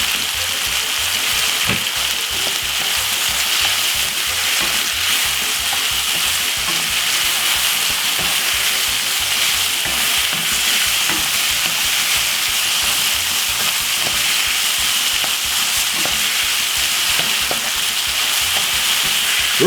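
Boiled cabbage with added vegetable seasoning fries steadily in a pan, a dense continuous sizzle with frequent soft scraping clicks of stirring throughout, close and even in loudness.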